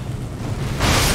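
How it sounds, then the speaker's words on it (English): A boss explodes in the video game Elden Ring, a sudden roaring burst of broad noise that rises out of a low rumble and stays loud to the end of the clip. "Did not expect the explosion there."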